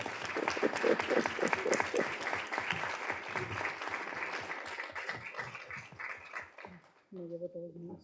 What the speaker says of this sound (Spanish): Bueno, aplauso.